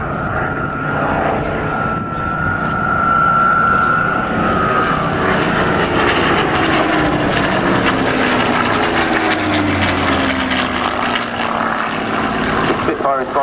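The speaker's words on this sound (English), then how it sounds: "The Spitfire is flying today, MK3 operated by number 92 Squadron." A Supermarine Spitfire Mk3 flying at an air show passes with a loud, sustained propeller engine drone whose pitch slides downward as it goes by, with a public-address voice talking over it.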